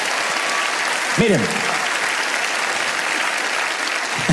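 A church congregation claps and cheers in a dense, continuous wash of applause that fills the room throughout, with a short spoken word heard over it.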